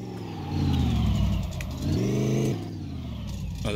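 A V8 car engine in a garage driving game revs and accelerates, rising then dropping in pitch twice, loud and steady with a smooth mechanical drone.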